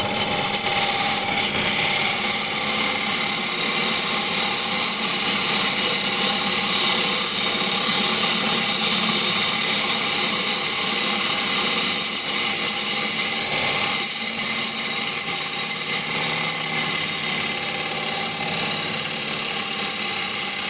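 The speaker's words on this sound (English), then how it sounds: "So I can go with nice shear cut, push cut, whatever you want to call it." A lathe spinning a wooden bowl while a gouge makes a shear cut, a steady whirring hum with a continuous scraping hiss from the tool, close and even throughout, with no speech.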